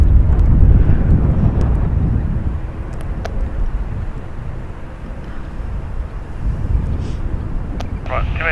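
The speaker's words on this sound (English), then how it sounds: "Ooh, we just had KLM fly over us." A KLM airliner passing overhead near San Francisco International Airport produces a low jet roar that is strongest at first, fades through the middle and swells again, with wind buffeting and a person talking over it.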